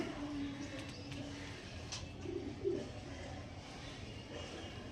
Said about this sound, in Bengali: এত ছটফটে করছে পায়রাগুলো